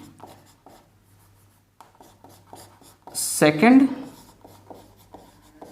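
Marker or chalk strokes scratch across a board during a complex-numbers maths lesson, short scribbling bursts interleaved with a teacher's voice speaking in between and over them.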